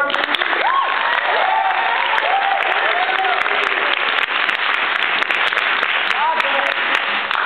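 A crowd claps steadily through an improv show, the dense applause staying level the whole time while people's voices ride on top of it and a few cheers break through.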